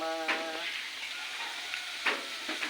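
Vegetables sizzle and fry in a pan for coconut-milk vegetable stew, a steady broadband hiss with a few louder spatters and a brief tonal beep near the start.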